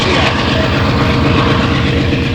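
A Canadian Pacific train rolling past on the Windermere Subdivision in British Columbia, a loud close rumble with rhythmic wheel clatter over the rails, steady and continuous.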